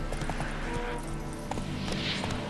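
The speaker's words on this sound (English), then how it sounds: "Spooking my horse." A spooked horse named Roach in The Witcher 3 video game: clip-clop hooves and a short whinny over a busy game backdrop, with no talking.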